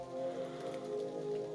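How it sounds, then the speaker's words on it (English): Steady rain pours down at Glenbrook Creek, a dense, even hiss of drops on water and surfaces that stays close and continuous throughout, with no voices. "it's raining obviously"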